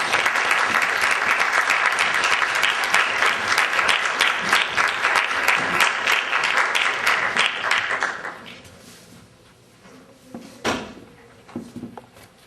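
Dense, sustained applause from an auditorium audience greeting journalist P. Sainath, loud and steady for several seconds before tapering off into scattered claps and room noise.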